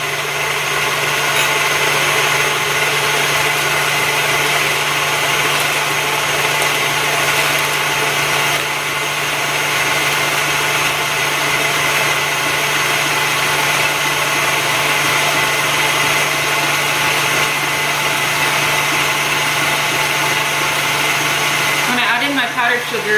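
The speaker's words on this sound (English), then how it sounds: "We're gonna let that whisk until we see like we start seeing peaks" Electric mixer whisking cream for a banana cream pie in a home kitchen, a loud steady motorized whir holding constant throughout with a brief clatter at the end.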